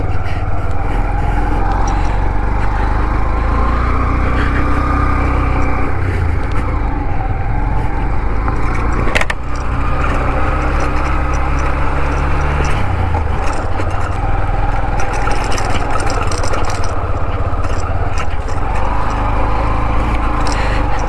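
A group of ten motorbikes on a rough, rocky off-road stretch on the way to Darjeeling, engines droning loud and continuous up close with shifting revs and rumbling throughout.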